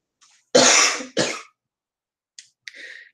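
Two harsh coughs close together, followed by a couple of quieter throat-clearing sounds, near and alone with no talk.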